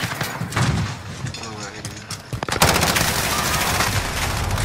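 Loud bursts of rapid automatic gunfire from Call of Duty: Modern Warfare, with scattered shots early and then a dense, sustained volley of fire, while a player talks over it.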